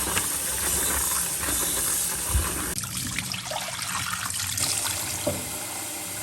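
Water runs steadily from a tap while soy veggie chunks are washed, a loud continuous hissing spray with brief clatters and shifts in the flow partway through.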